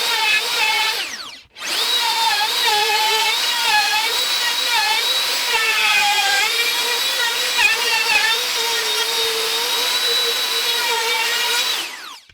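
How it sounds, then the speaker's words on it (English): A handheld router with a bushing-guided bit cuts a Telecaster guitar body along a clamped template, a loud steady high-pitched whine that drops briefly near the start, then runs on with slight pitch wavers before stopping. "here is the router. It has a bit in it with the bushing, so it can go around"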